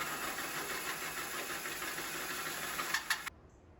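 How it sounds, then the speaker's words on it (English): A hole saw cuts through the flatbed of a Toyota Tundra pickup to make a winch fairlead opening, a steady grinding whine close by that ends abruptly after a few seconds, with no talking. "So I'm taking a hole saw and I'm basically making the outline a little bit bigger than the fair lead will need to be."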